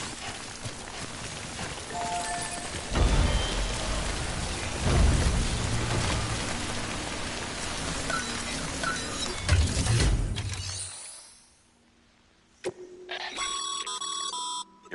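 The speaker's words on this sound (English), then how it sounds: "Don't stay out in the rain any longer than you have to." Timefall rain pouring in the video game Death Stranding, a heavy continuous downpour with low rumbles that cuts off abruptly, followed by brief electronic tones.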